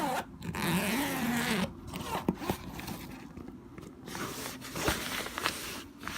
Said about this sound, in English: You got a zipper on the front.